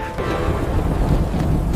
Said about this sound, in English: Mountain storm!